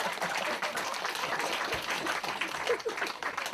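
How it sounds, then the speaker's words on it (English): A lecture audience in France claps together in a dense, steady patter of many hands that keeps an even level from start to finish. "clap hands"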